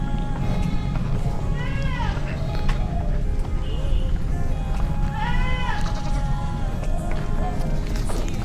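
Assam Hill goats bleat repeatedly on a farm while grazing, with several drawn-out calls rising over steady background noise and a person talking throughout.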